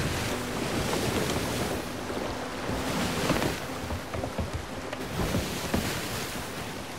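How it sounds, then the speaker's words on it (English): Sea of Thieves ocean waves wash and surge around a small merchant sloop, with a steady, rolling roar of surf and wind rising and falling, no voices. "There's some big little waves."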